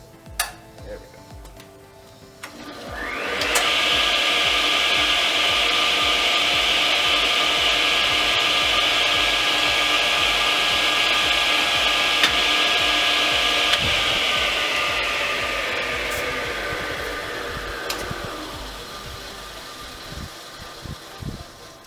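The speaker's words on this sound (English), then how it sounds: "we'll listen to the Tilty here. This one does have a blade on it, so maybe a little bit louder." A vintage Delta tilt-top table saw with a blade fitted starts up into a steady, loud whirring hum with a high tonal whine. It runs evenly for about fifteen seconds, then spins down as the motor is switched off.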